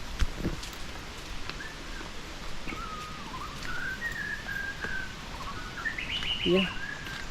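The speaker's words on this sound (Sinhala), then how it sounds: "කුරුල්ලන්ගේ සද්ද" Birds chirping and whistling near Peessa Waterfall in Badulla, a series of clear melodic calls and rising tweets over a soft, steady background hiss of water and rustling.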